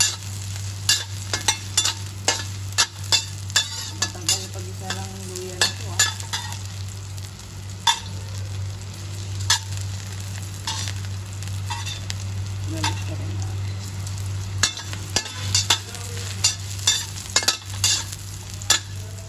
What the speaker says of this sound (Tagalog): Pag naglagay kayo, ipa-brown nyo ng konti yung ating luya.